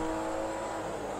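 A Honda Civic FD6 Mugen engine in the video game GTA 5, heard from inside at high speed in sixth gear, gives a faint, steady high-revving drone with road whir.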